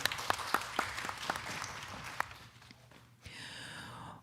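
Scattered clapping from a small group at a public meeting about a ferry terminal project: a few distinct, separate claps that thin out and fade after about two seconds, followed by a different, quieter sound.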